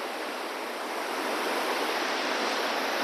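The swollen Mandakini river, with waterfalls nearby, gives a loud, continuous roar of rushing water. The broad hiss stays steady throughout, with no voices.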